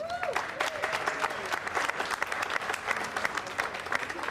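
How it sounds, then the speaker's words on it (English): A crowd applauds outdoors at a Juneteenth flag-raising gathering, steady scattered clapping heard at a moderate distance, with a faint voice briefly at the start. "A lot of people have put a lot of work into this in terms of raising this flag, so please give them a round of applause."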